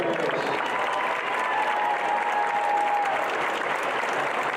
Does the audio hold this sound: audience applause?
yes